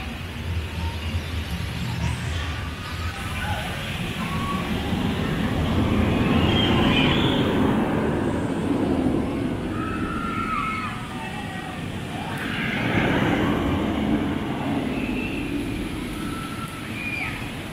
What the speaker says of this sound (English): This coaster is way more intense than I remember.